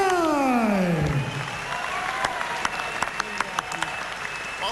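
Crowd applause and cheering at a 2005 K1 kickboxing event rise after a descending tonal sound, with scattered sharp claps and background crowd noise continuing.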